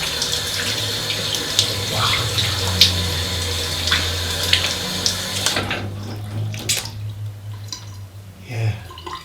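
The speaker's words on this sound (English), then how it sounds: "Well, I just rinse off." A straight razor rinsed under a running tap, steady water stream splashing into a sink, close and continuous for about six seconds before the flow stops, leaving faint drips and handling sounds.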